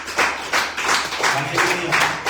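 A church congregation claps together in a steady rhythm of loud bursts, close and continuous, with voices mingled through the applause.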